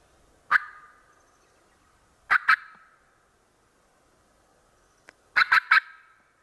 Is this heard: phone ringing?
no